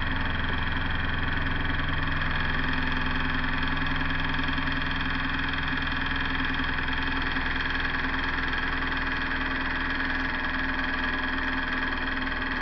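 Steady, continuous hum of an alpha Stirling engine with regenerator holding around 1200 RPM, an even mechanical drone with a faint knocking vibration and no talking.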